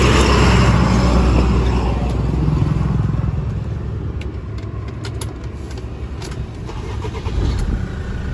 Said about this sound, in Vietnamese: Và em xin phép nổ máy ạ.